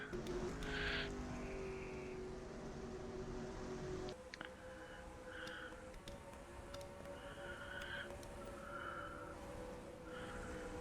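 Race cars in the NASCAR Racing 2003 video game sweep past in a flyby, engines buzzing loudly, with a sharp shift partway through and brief tonal squeals recurring over the continuous engine drone.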